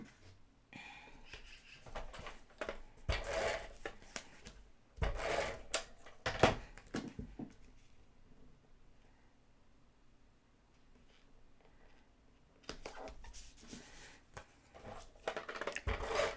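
Scrapbook paper being cut into a strip, heard as close bursts of snipping and rustling with a quiet pause in the middle.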